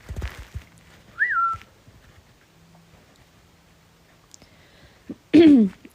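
A person whistles a short rising-and-falling note, then a second whistle slides downward a few seconds later, with faint background sounds between them.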